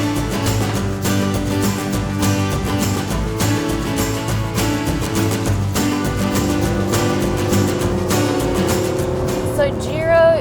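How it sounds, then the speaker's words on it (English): Lamborghini sports cars with 500-plus horsepower engines drive along winding mountain roads in New England, a continuous loud engine drone with shifting revs and passing whooshes, steady throughout and building near the end. "let's see what these 500+ horsepower vehicles can do on these mountainous roads"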